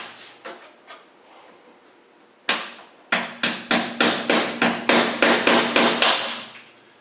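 A few scattered taps, then a steady run of a dozen sharp hammer blows on a chisel cutting a rivet off a fabric side panel, close and clear.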